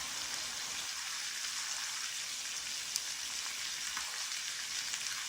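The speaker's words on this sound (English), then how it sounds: "Now I have my steaks, they're cooking at about 400." Steaks pan-frying at around 400 degrees with a pat of butter, a steady, even hiss of sizzling fat that holds at moderate level with occasional tiny pops.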